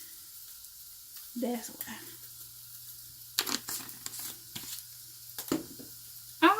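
Burgers sizzle and fry in a pan on a home kitchen stove, a steady soft crackle with brief louder bursts of spatter and stirring, while people talk briefly nearby.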